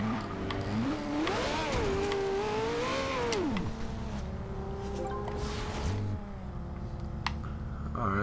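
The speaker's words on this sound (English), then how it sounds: "there's a lot of cars coming too" In the racing game Forza Horizon 2, traffic cars drive past with engines rising and falling in pitch as they pass, under a steady drone from the player's idling car.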